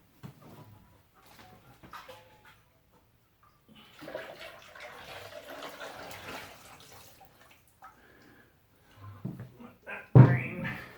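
Pumpkin moonshine mash poured into a hanging draining bag, a wet splashing gush building up near the end after scattered quiet handling noises and brief low murmurs.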